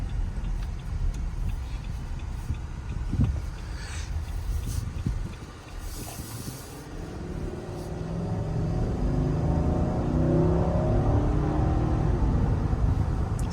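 A 2024 Nissan Armada Platinum's engine hums low and steady from inside the cabin while driving, a broad rumble that thickens slightly toward the end, with faint clicks and road noise over it.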